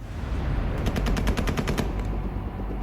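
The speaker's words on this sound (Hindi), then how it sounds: "फायरिंग," Automatic gunfire at Kabul's Hamid Karzai airport: a rapid burst of about nine sharp shots over a constant noisy background, with no talking.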